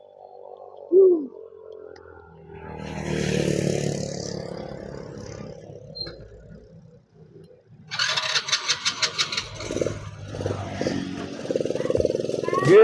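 Old vehicle engine on a climbing forest road, idling low before revving in several short rising bursts and then settling into a rough, loud running drone, with brief background voices.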